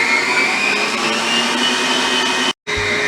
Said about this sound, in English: in a bowl, you're going to put your cream cheese and your sugar. We're going to mix it till it's light and fluffy